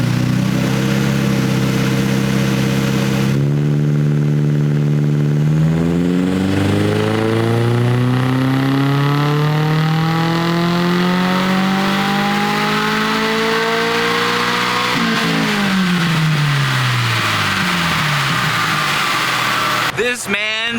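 Toyota GR86 running on E85 fuel on a dynamometer during a pull, its engine revving loudly and climbing steadily in pitch across the pass, then dropping back, all under sustained engine roar.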